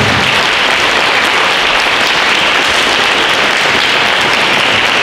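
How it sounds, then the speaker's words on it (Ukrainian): Dense, continuous applause from a large audience at a folk festival gala concert, loud and even throughout with no pauses or voices. "Варто оплески."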